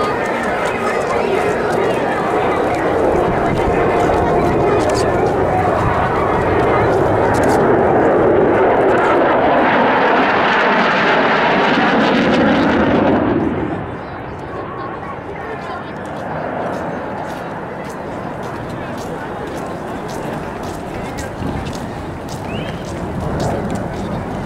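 A Mitsubishi F-2 fighter jet passes at Ashiya air base during an air show, its loud engine roar swelling for several seconds then dropping sharply to a distant rumble, under continuous public-address announcements.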